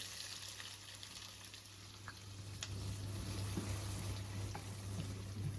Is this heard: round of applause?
no